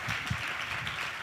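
A conference audience at a national event applauds briefly and steadily, with a dense, even patter of many hands that holds throughout the short burst and carries no speech.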